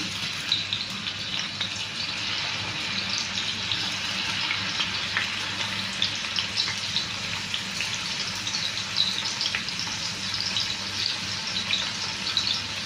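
Thinly sliced onions fry in about a hundred grams of oil, a dense, continuous hissing sizzle that stays close and fairly loud throughout with no voices.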